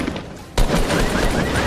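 Gunfire in a first-person shooter game with armor and headshots, a sudden loud blast at about half a second followed by a dense, sustained burst of shots that runs to the end.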